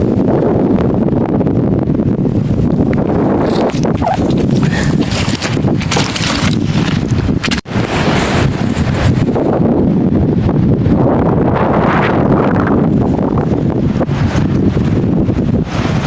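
Strong wind gusts across a carp fishing pond at Devynakiai, buffeting the microphone with loud, rumbling roars that surge and ease over sixteen seconds, with no talking.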